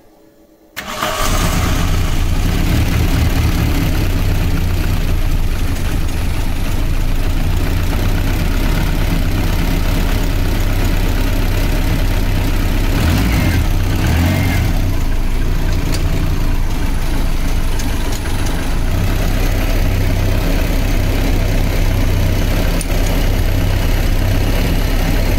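A Volkswagen G60 supercharged engine with KE-Jetronic injection catches after a brief start and settles into a steady, loud idle that runs on unbroken with a rough low rumble.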